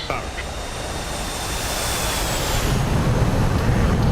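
A jet landing on an aircraft carrier in the DCS flight simulator, catching the 3-wire: a loud, steady engine roar and wind rush that swells toward the end, with no distinct impact.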